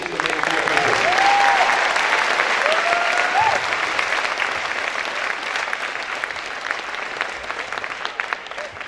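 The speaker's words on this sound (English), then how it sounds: "let's give them this big applause for all these kids who made it here" Sustained applause from the audience at a high school military signing day, a loud even wash of clapping that slowly softens, with a few voices faintly beneath it.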